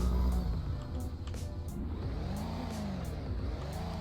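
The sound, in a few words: BMW X6 car driving in Roblox video game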